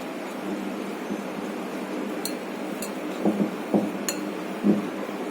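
Jalebi batter with ghee, colour and yogurt being mixed in a bowl, a soft wet stirring under a few bright clinks of a spoon against the bowl and duller knocks, close and fairly quiet, with no talking.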